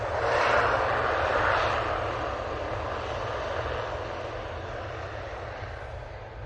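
A Loganair plane takes off at Manchester Airport, a steady, moderately distant engine roar with a low rumble that swells briefly at first and then eases slightly as it recedes.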